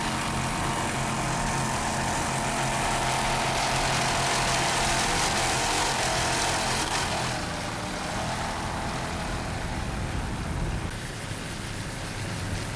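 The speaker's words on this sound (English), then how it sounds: "Mercruiser powered, 2 500 horsepower Mercruiser engines." A racing powerboat driven by twin 500-horsepower Mercruiser engines roars past with a dense, continuous engine drone and rushing noise, steady and loud for most of the stretch before easing slightly.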